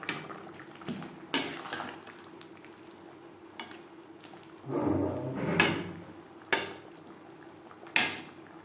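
A pan of papaya curry with coconut and slit green chillies is stirred over a gas flame. Sharp metal clanks and scrapes of the spoon against the pan come at irregular intervals, close and clear, with a soft sizzle between them and no talking.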